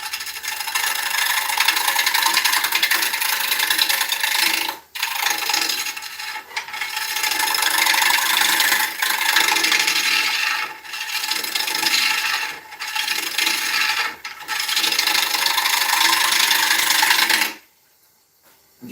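Die back ash turning on a wood lathe, a loud continuous rasping scrape of the tool on the spinning wood, broken by brief pauses and dips, then cutting off into near silence at the end.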